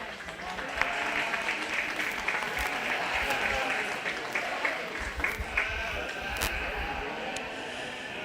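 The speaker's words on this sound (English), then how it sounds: "So let's give these kids a round of applause for a nice set." Audience at a 4-H/FFA sheep and little lambs show applauding steadily throughout, a moderate wash of clapping with a few sharper individual claps standing out near the end.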